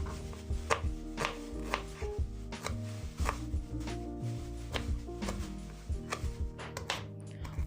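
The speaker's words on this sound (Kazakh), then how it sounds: "Турап болғаннан кейін жуа тураймыз." A knife chops onion on a cutting board for a chicken-leg and rice pilaf, striking in a steady run of sharp, close, loud taps with no talking.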